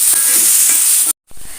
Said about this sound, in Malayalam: ഇനി അതിലേക്ക് നമ്മൾ ഒരു 2-3 സവാള അരിഞ്ഞതിട്ട് കൊടുക്കുന്നുണ്ട്. ഇനി അത് നല്ലോണം ഒന്ന് വഴറ്റിയെടുക്കാം.